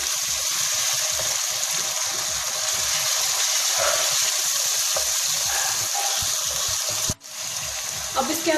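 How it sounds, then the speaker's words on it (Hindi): Steady sizzling and hissing of masala with ginger paste frying in a pan for chickpea curry, with a watery gush as water is poured in, continuous and close. "थोड़ा थोड़ा पानी डाल के इसको हम भूनते जाएंगे।"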